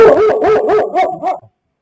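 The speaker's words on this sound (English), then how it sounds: "you can hear from the dog bark there" A dog barks about six times in a steady, fairly loud series of close barks, the last one fading into silence.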